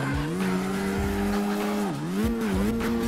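Tires squeal continuously as a Simpsons car drifts in the CarX Drift Racing Online game, the pitch sliding down and back up with the engine's revs; loud, close, with no talk.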